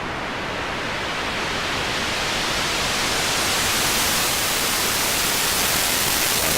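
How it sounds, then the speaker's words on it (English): Heavily distorted synthesizer sound fills the clip as a dense, steady wash of noise-like hiss that brightens gradually as a sweep opens, loud and unbroken with no talk. "It's really distorted."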